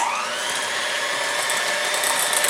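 An electric mixer whirs steadily at close range, blending add-ins into a loose banana bread batter with a continuous high-pitched motor whine and no voices.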